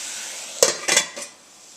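A metal saucepan and its lid clatter on a kitchen stove while spinach cooks, giving three quick knocks and clanks in a row, the first sharpest, over a faint steady hiss.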